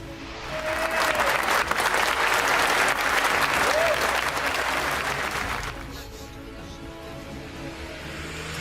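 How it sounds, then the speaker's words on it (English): MPs clapping together in the House of Commons chamber during PMQs for the Ukrainian ambassador, a sustained burst of applause that fades after several seconds into quieter room noise. "MPs unite in applause as the Ukrainian ambassador attends PMQs in the Commons."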